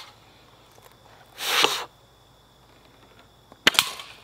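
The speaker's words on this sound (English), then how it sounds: "I just shot at the ground in front of me." Slingshot ammo fired at the ground, two short separate bursts: a hissing swish followed later by a sharp snapping impact, alone in a quiet outdoor setting.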